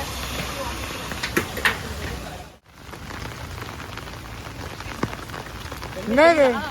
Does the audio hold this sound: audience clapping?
no